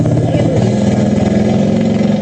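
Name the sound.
Doodlebug scooter's 1.5 horsepower engine running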